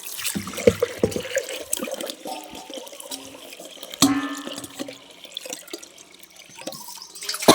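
Chili seeds being washed in water by hand, with splashing, sloshing and dripping that come in irregular bursts, close and fairly loud, with no talking.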